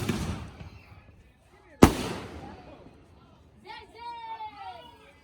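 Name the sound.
neighbor setting off fireworks in the backyard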